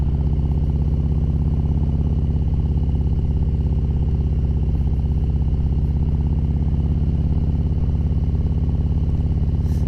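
A 2018 Harley-Davidson Road Glide Ultra motorcycle riding in second gear, a loud, steady, close engine drone with an even low throb throughout.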